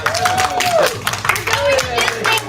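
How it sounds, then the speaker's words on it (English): Applause and clapping from family and students at a Christian karate white belt promotion, a brisk, close patter mixed with overlapping voices and crowd murmur. "Give them a round of applause."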